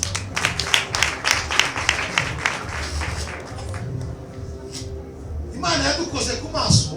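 A church congregation claps and applauds, a burst of dense, loud clapping in the first half that fades into a murmur of voices and scattered claps near the end.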